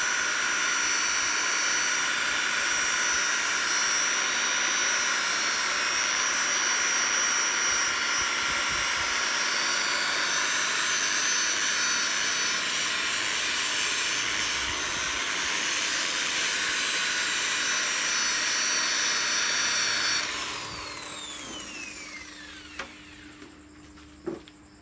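A polishing machine works on the faded fuel tank of a Yamaha RXZ motorcycle, a steady close whine held for about twenty seconds before it shuts off and winds down, ending with a few small clunks.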